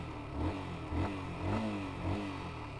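A Yamaha R15 V2 sport motorcycle engine revs repeatedly in short, rhythmic bursts, rising and falling about every half second, close by with no talking.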